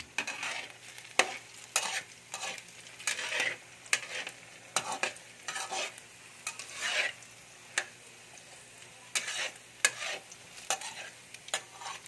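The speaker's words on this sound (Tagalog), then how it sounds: "matiyaga tayo sa paghalo" Food frying in a pan is stirred patiently, with a steady sizzle under a series of quick scraping, clattering strokes of the utensil against the pan, close by and fairly quiet, with no talking.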